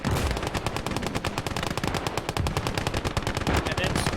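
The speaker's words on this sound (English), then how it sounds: "And then suppressing fire." Rapid machine gun suppressing fire in the Call to Arms war game, a dense, unbroken stream of loud shots rattling on for the full four seconds with no pauses.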